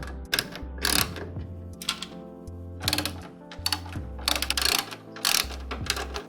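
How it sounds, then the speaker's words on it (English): A screwdriver works out the four screws holding a PC power supply unit, giving close ratcheting clicks and scraping metal turns in repeated short bursts, with brief pauses between screws. "All you need to do is take off these 4 screws here and we are done."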